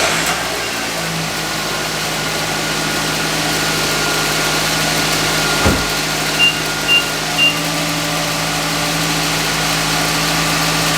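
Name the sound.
Nissan Rogue engine started and idling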